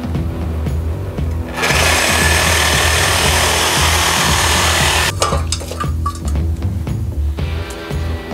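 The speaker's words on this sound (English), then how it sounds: "I do need to cut the intermediate pipe off of here so that I can attach that to the new muffler" A power tool cuts through the exhaust intermediate pipe of an S10 Blazer, a harsh, loud grinding buzz lasting a few seconds before stopping, followed by clanks and rattling of metal.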